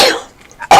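A person sneezes close and loud; an explosive breathy burst fades out, then a second sharp burst cuts in at the end.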